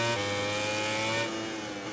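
A superbike engine in the WSBK 20 racing game at Mugello holds a loud, steady high-pitched whine with layered harmonics, easing slightly toward the end, with no talk.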